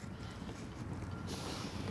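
Cold wind blowing across a microphone outdoors, a faint low continuous rumble that grows slightly brighter and gustier partway through, with no voices.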